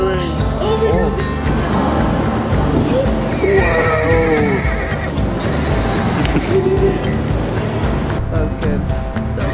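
Toronto Police horses whinny and neigh several times outdoors among a crowd, the calls rising over a constant noisy background of voices and traffic, with people talking throughout.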